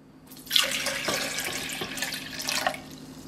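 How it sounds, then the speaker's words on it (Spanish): Water pours into a blender jar as about half a litre is added for oat milk, a steady splashing stream lasting a few seconds with no one talking. "Ya le voy a poner, yo creo que como 1/2 litro de agua."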